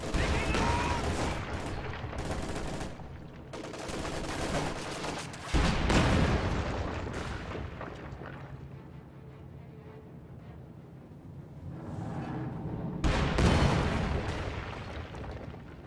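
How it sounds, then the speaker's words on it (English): Panzerwerfer rocket artillery barrage in a World War II strategy game, a rolling series of loud booming explosions and crackling blasts with bursts at the start, middle and end, ending in a final heavy volley. "That wasn't a very good Panzerwerfer barrage either."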